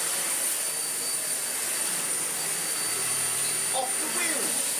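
A Dyson bagless vacuum cleaner runs with a steady, loud whine and a broad airy roar that holds level for the whole stretch, with faint voices underneath.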